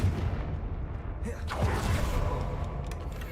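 A Confringo blasting spell from Hogwarts Legacy goes off in a single booming burst around the middle, over a constant low background rumble.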